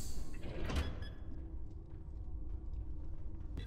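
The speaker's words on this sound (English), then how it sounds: "This door opens, I'm just going to have a quick nose" A door swings open in the SCP: Pandemic co-op shooter, a short mechanical clunk near the start followed by a low rumbling ambient drone that continues to the end.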